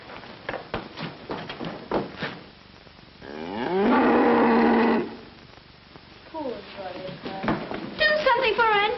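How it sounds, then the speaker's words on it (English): A cow lying in her stall lets out one long, loud, drawn-out moo in the middle, with people talking before and after it. "She's lying in her stall moaning and mooing."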